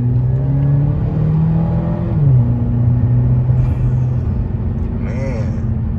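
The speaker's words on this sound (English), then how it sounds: "You get an intake, open up the exhaust, and then you can hear it. You can hear that turbo." A turbocharged Chevrolet Malibu fitted with an intake and open exhaust runs with a loud, close engine drone that shifts pitch as it revs, with a brief whooshing turbo note near the end and a voice talking over it.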